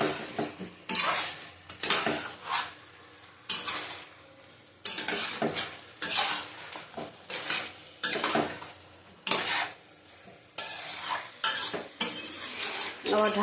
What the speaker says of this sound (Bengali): এবার আলুটা দিয়ে দেবো, আলু ভেজে রেখেছি আমি।